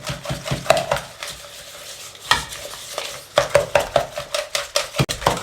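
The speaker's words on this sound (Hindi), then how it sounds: "मिक्स कर लें अच्छे तरीके से और फेंट लें।" Potato ball batter with flour and spices being mixed and beaten in a bowl, with a run of rapid, regular scraping and tapping strokes that picks up toward the end, close and clear with no talk.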